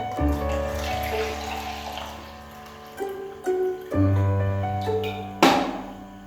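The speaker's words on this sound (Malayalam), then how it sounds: "ബോട്ടിലേക്ക് ഞാൻ കുറച്ച് വെള്ളം ഒഴിക്കുകയാണ്." Water pours into a bottle in a few bursts, the gurgling pitch rising as it fills, ending with a short splash.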